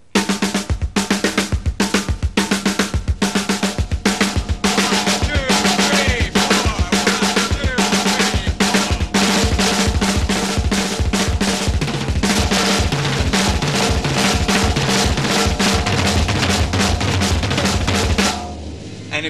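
A drum kit plays fast sixteenth-note patterns grouped in sixes and fours across the drums, a loud, dense, continuous run of hits that stops abruptly near the end.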